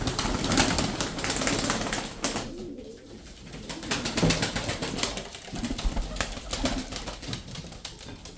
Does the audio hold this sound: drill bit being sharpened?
no